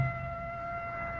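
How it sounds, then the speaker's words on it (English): Police car sirens wail at a distance, steady tonal lines holding under a faint background hum with no voices. "Police cars. Hear the sirens?"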